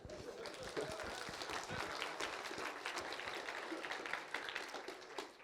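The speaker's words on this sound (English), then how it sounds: "This itself requires an applause." A conference audience at a Ruby on Rails talk gives applause, a fairly quiet but continuous patter of many hands clapping from a distance, steady throughout.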